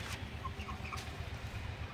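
Broiler chickens on a poultry farm cluck softly, with a few short calls over a low, steady hum of the shed.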